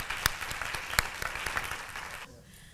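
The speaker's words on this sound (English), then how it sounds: "If we can give our speakers another round of applause." An audience claps in a scattered ripple of applause, with a few sharp individual claps standing out, fading away toward the end.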